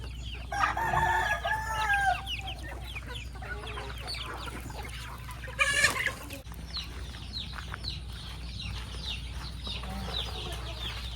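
Native chickens on a farm clucking steadily while a rooster crows near the start and again mid-way, with more distant crowing and fowl calls spread through, over a constant low background hum.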